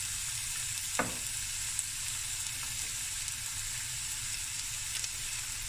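Chopped onions fry in oil in a pot for a Cape Malay tomato bredie, a steady broad sizzle holding throughout with a single soft clink near the start and no talking.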